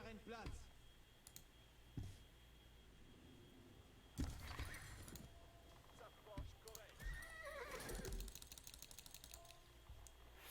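Horses neigh and whinny in the Age of Empires 4 strategy game, with hooves clip-clopping and interface clicks over a steady game ambience, while someone talks over the top.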